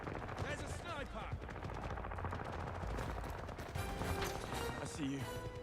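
Gunfire erupts in the video game 007 First Light during a firefight with a sniper, bursts of shots crackling amid dense game sound effects and music, fairly quiet overall.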